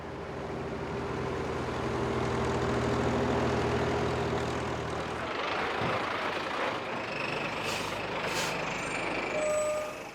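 Trucks arriving at a wine cooperative in Aléria, Corsica, a steady low engine rumble at idle that cuts off midway, followed by brief high reversing beeps and air-brake hisses.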